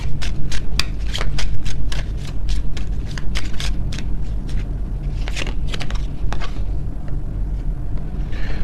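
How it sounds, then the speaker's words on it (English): Oracle cards are shuffled in a steady run of crisp riffling flicks and snaps, close and fairly loud, repeating for several seconds with no talking. "Let me get some final oracle cards here."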